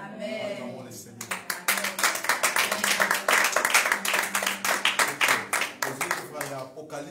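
A church congregation claps in praise during a worship service, the steady, rhythmic hand claps of a crowd keeping time, loud and close, with voices singing and calling out over the clapping.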